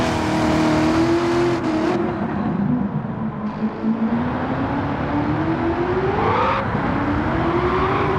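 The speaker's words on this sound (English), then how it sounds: "here we go, once again, with the Red Devil Camaro down the Nürburgring" Stielow Engineering's Red Devil Camaro race car lapping the Nürburgring, its engine roaring steadily close by, with the pitch sliding up and down as it revs and shifts, loud throughout with no voices.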